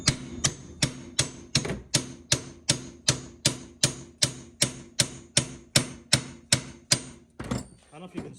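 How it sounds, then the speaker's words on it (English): Hammer tapping a stuck U-joint on a car driveshaft held under ratchet-strap pressure, about twenty sharp metallic knocks in a steady even rhythm, close and loud, ending with a few rattling clinks. "Now I'm going to just tap this with a hammer."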